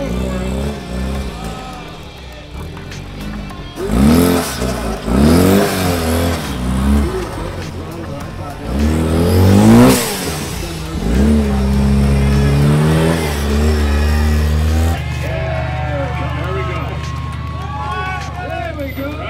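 Rock crawler engine revving hard as it climbs over a rock, with loud surging bursts of acceleration rising and falling repeatedly, mixed with voices talking and shouting throughout.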